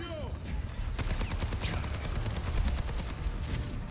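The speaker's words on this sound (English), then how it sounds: "But a lot of shots shooting at me." Gunshots fired at the player in the video game Overwatch, a rapid rattling fusillade of close, loud shots continuing throughout over game sounds.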